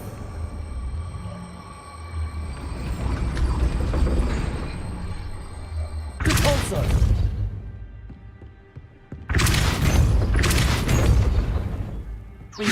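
Spell effects from the video game Hogwarts Legacy: a long swelling magical whoosh followed by two sharp, booming blasts, loud and close, with no voices.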